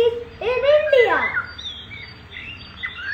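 Birds at Vedanthangal bird sanctuary near Chennai, India: a couple of bright chirping, warbling calls rise and sweep close by, followed by fainter tweets over quiet background.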